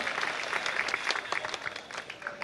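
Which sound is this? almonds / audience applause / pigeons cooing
audience applause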